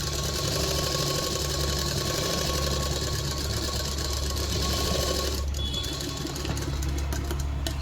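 A sewing machine runs continuously, stitching fine, narrow tuck seams on thin fabric. The close, steady mechanical whir and rapid needle chatter hold without pause throughout.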